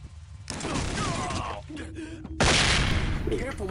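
Flashbang grenades going off in SWAT 4 multiplayer, two loud, harsh bursts close by, the second louder and sustained, with speech mixed in.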